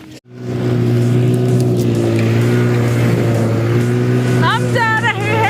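A motorbike ridden through the snow at Sonamarg, Kashmir, its engine a steady loud drone throughout, with occasional voices and some brief high-pitched chirps near the end.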